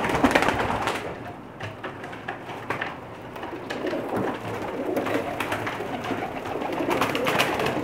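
Pakistani breeder pigeons coo steadily in a loft, low throaty calls overlapping continuously at close range with a busy flock murmur underneath.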